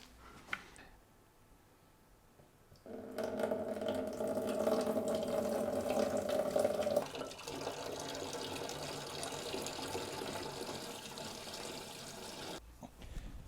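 Water runs steadily into a fermenter, about 17 litres in total, a loud continuous splashing flow that starts after a quiet moment and stops abruptly near the end.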